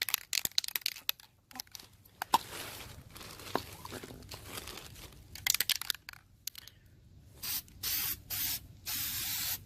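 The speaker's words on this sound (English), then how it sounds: "So I'm going to give this a good shot of DEI high temp silicone coating." A can of DEI high-temperature silicone coating sprays onto a part. Quiet rustling and handling noises come first, then several close, hissing spray bursts of about half a second to a second each.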